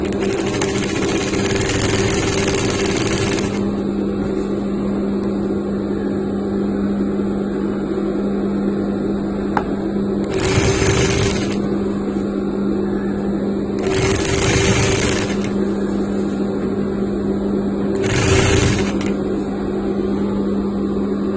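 A sewing machine stitching a children's Moroccan djellaba gives a steady mechanical hum, broken by a few short, louder stitching bursts, close by and with no voices.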